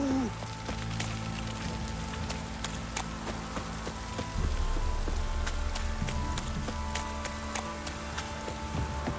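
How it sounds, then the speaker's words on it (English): Heavy rain pours down in a steady, dense hiss with scattered sharp drips and spatters. It stays loud and constant throughout, with a low rumble underneath. "This downpour's a bastard"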